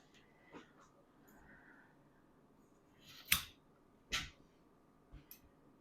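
Fiskars scissors snip through curtain fabric in a few quick, separate crisp cuts with quiet pauses between them, close to the listener.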